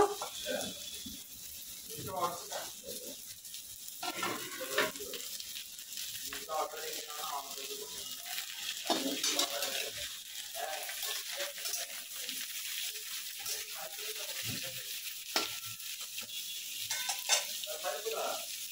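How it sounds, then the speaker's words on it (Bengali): Vegetables and pumpkin fry in a pan for a spinach and prawn dish, giving a soft, steady sizzle with occasional stirring scrapes and rattles, fairly quiet throughout. "সব সবজিগুলো একটু ভালো করে ভেজে নেব আগে। এবার দিয়ে দেব কুমড়ো।"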